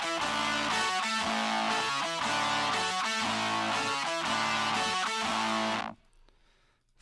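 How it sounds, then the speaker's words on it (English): A dense distorted band mix from a song cover carries an added trombone part that keeps the bass line moving in steady rhythmic hits, loud and full before cutting off abruptly near the end. "There was an additional sort of trombone part that was added here"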